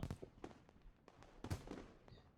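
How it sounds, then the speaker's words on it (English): Fireworks in the Katawa Shoujo video game burst above a school with loud booms, several sharp cracks and rumbling explosions following one another, fairly quiet overall and with no speech. "A tail of fire trails behind it until a burst of red and yellow flame lights the sky high above the school with another loud boom"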